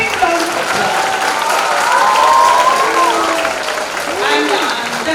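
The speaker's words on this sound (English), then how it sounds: "A big round of applause." Audience at a school assembly applauding, dense sustained clapping from a large crowd with voices mixed in throughout.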